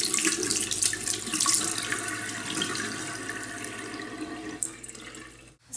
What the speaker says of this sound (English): get a little water on my hand and slowly just rinse